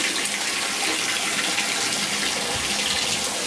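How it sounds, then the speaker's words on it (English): Steady close rush of running water, like a tap filling a container, as aquarium sand for a betta tank is washed, with no speech over it. "This is how I wash my sand when I'm doing a complete water change in Sammy's tank."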